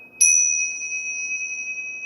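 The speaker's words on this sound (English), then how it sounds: "a ceremonial bell. I think that's what they call it." A ting sha ceremonial bell, a sound healing instrument, is struck once, giving a bright metallic ping that rings on with a steady, slowly fading shimmer, close and alone.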